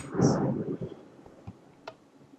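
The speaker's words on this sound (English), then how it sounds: "Big bolt of thunder out there." Thunder booms outside during an indoor computer gaming session: one deep, loud rumbling clap that rolls and fades within about a second, followed by near-quiet with a few faint ticks.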